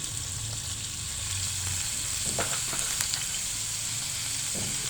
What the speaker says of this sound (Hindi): थोड़ी देर मसाले थे उनको पका लेने के बाद आपने इनमें प्याज डाल देना है।